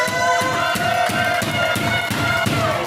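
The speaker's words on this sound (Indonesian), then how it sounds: "Tepuk tangan. RT mana suaranya?" Neighborhood residents at an Independence Day quiz competition clap rhythmically in unison, a loud, steady beat of sharp claps with crowd noise and a tonal musical hum underneath.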